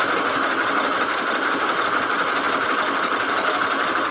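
A sewing machine stitches through paper junk-journal pages, a loud continuous rapid mechanical whir and buzz, close up and steady throughout with no talking.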